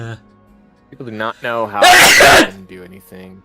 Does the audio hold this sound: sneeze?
yes